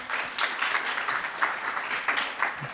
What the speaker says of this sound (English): I would propose another applause for this team